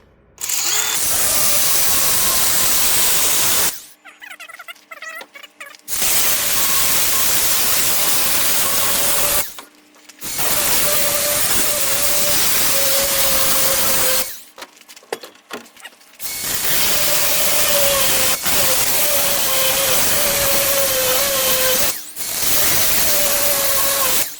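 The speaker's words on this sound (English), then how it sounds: "I gotta get this tube cut off, get rid of that." A steel tube is being cut off the axle of a 1964 Little Champ vintage camper with a power tool. Loud, sustained grinding bursts with short pauses between cuts run throughout, with no talking.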